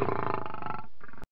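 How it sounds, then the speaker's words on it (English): A lion roars once, loud and close, in a single strong sustained call that briefly dips before a final short burst, with nothing else heard. "Lion."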